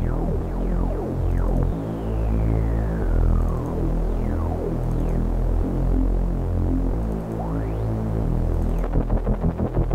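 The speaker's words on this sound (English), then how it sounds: "So here I've got a Reese bass." A Reese bass synth patch run through an Ableton movement rack throbs continuously for ten seconds, loud and up front, with warbling, shifting tones and sweeping textures and no voices.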